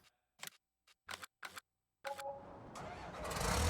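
In Farming Simulator 19, a combine harvester's engine cranks after several short clicks, then catches and settles into a rising idle rumble that grows louder toward the end, with no one talking.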